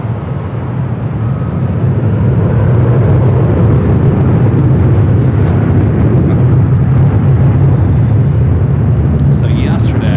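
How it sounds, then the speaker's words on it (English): United Airlines Airbus A321neo arriving at Los Angeles LAX from Chicago O'Hare, a loud, steady broadband jet roar rumbling throughout the clip, heard alone and close. "United Airlines Flight 2488 coming up from Chicago O'Hare. It's a brand new A321neo."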